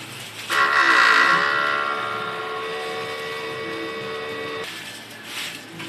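An inkjet printer runs a strong head-cleaning cycle, starting abruptly with a loud mechanical whir and a steady high-pitched whine that slowly fades, then cuts off near the end.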